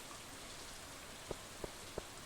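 Steady rain hiss falling in the farming game Stardew Valley, a constant soft wash across the whole stretch with three brief, evenly spaced droplet-like taps near the end; no talking.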